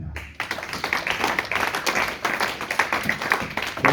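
A church congregation claps in a fast, steady rhythm, many hands together close and loud, with a faint voice underneath.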